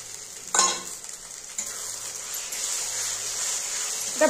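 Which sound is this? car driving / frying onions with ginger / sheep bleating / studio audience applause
frying onions with ginger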